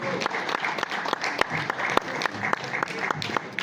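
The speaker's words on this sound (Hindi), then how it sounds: "जोरदार तालियां बजाइए" Sustained applause from the audience at a Hindi poetry gathering in Rishikesh, steady clapping with a few sharper claps standing out, fairly close and continuous throughout.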